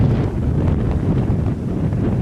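Strong wind buffets the microphone outdoors, a loud, continuous low rumble with gusty fluctuations throughout and no voices.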